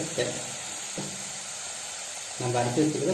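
Ginger garlic paste sizzling in a hot pan for channa masala, a steady frying hiss with brief bursts of louder crackle, and a voice speaking over it.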